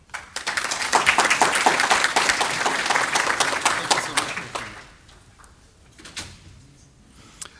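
An audience applauds after welcoming remarks at a global languages leadership meeting: dense clapping at full strength for several seconds, then fading to a few scattered claps and quiet.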